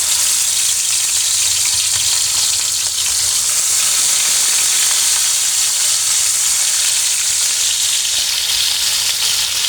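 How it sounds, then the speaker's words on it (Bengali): Pieces of rohu fish frying in hot oil. A loud, dense, continuous sizzle stays close and steady throughout, with no talking. "এই তো এখন লেসগুলো ভেজে নেব এখানে তেল দিয়েছি"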